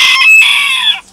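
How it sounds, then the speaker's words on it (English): A rooster crows loudly and close by, one long drawn-out call lasting about a second, with no other sounds around it. "putting up with my rooster"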